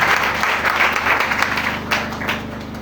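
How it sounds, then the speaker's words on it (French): A church congregation applauds to acclaim God after a brother is invited to give his testimony, a loud, steady wash of clapping from many hands that fills the room throughout. "Acclame Dieu pour sa vie."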